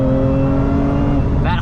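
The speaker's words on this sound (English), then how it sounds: "You can hear that supercharger whine." A Lotus Emira's supercharged V6 drones loudly from inside the cabin under acceleration, a steady tonal whine layered over the engine note for the whole short stretch.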